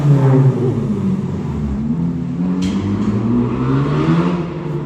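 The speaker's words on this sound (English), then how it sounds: "Loud car had to pause." Loud car revving as it drives past outside Independence Hall at Knott's Berry Farm, a strong low engine rumble with shifting harmonics that stays close and heavy throughout, no voices.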